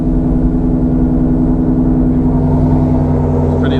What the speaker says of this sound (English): For some reason the exhaust defaults to normal mode, so straight into the old sport mode to open them flaps.